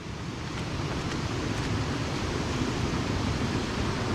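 Steady, dense rushing of the Czarny Potok waterfall near Świeradów-Zdrój, water spilling over the top, a constant broadband roar with no pauses or voices.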